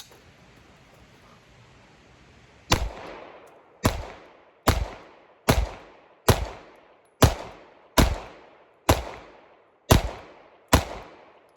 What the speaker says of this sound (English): So let's put a few rounds through it, see what I think compared side by side